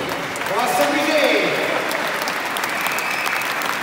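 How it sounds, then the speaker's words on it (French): A concert audience at a French horn ensemble performance in Belgium breaks into steady, full applause that holds at an even level throughout, with voices faintly mixed in. "On va applaudir."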